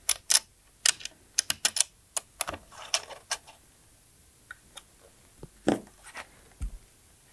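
Screws are fitted into an upper cage for a Canon C70 camera, giving a series of sharp, close metallic clicks and taps in irregular bursts that thin out toward the end.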